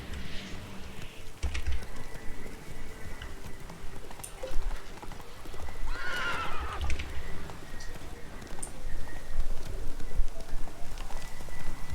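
Roach, a horse in The Witcher 3, gallops with steady hoofbeats through most of the stretch, and a whinny rises near the middle over the game's ambient sound.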